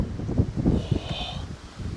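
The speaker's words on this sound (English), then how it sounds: "Windy and cold out here now." Gusty wind buffets the microphone outdoors on a cold, snowy day at a winter campsite, a rough rushing noise with a faint whistling tone partway through, and no one speaks.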